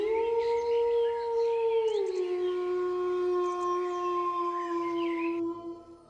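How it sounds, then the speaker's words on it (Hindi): A distant dog howls in a long, sustained, wavering tone that holds steady for several seconds before fading out. "दूर कहीं एक कुत्ता भौंक रहा था।"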